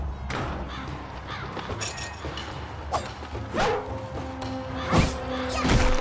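A spirit dog companion barks in the video game Devil Slayer Raksasi, sharp yips popping out amid a busy mix of combat hits, crashes and effects, with a couple of louder barks near the end.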